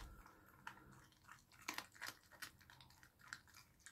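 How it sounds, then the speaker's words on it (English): A pet crunches on raw chicken pieces, producing close, uneven crisp crunches and bites over a few seconds in an otherwise quiet room. "Close your ears if you don't like the crunching."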